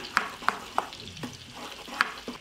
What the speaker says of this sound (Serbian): i odmah ćemo promešati i propržiti 20 sekundi